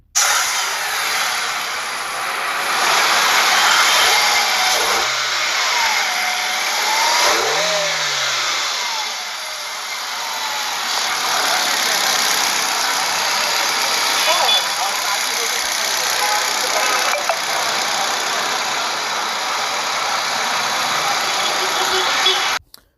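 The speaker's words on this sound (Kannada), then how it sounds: "ಗಾಡಿ ಸ್ಟಾರ್ಟ್ ಮಾಡಿನೂ ಕೂಡ ತೋರಿಸ್ತೀನಿ ಇಂಜಿನ್ ಸೌಂಡ್ ಹೆಂಗಿದೆ ಅಂತ" A Hyundai Grand i10 Sportz petrol car engine, in very good condition, turns over and settles into a steady idle, humming close by for a long stretch with occasional revs.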